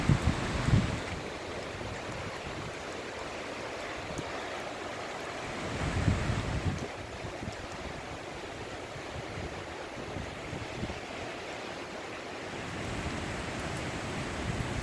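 Hurricane Sally's winds roar across Fort Walton Beach, Florida, a constant heavy rushing with deep gusts buffeting the microphone and surging louder at moments, with no voices.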